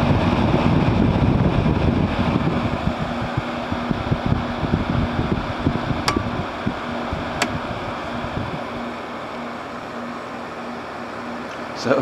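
An older Haier air conditioner, model HWC05XCB, runs its fan on high, a steady broadband whoosh with a low hum that drops slightly in level partway through, with faint clicks and no talking.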